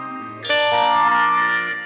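Ambient guitar wash with chorus, echo and distortion from an effects pedalboard for the outro of a song, a swelling shimmering chord that enters after a quiet start and hangs sustained and loud.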